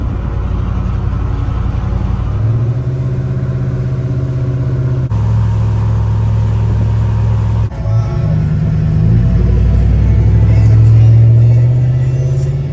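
A car drives along a road on the way to a rural property, its steady engine hum and tyre rumble filling the cabin with gentle rises in pitch as it accelerates and eases off.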